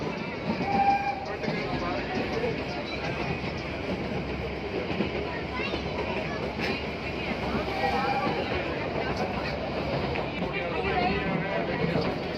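A toy train runs along the Shimla mountain railway, its steady rumble and wheel noise carrying through the whole stretch while voices talk over it nearby.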